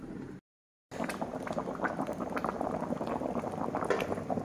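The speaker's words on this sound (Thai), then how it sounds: "เดือดซุปแล้ว" Thai fish and jackfruit-leaf soup boiling in a covered pot, a close, bubbling rumble that cuts out briefly, then returns and keeps churning steadily.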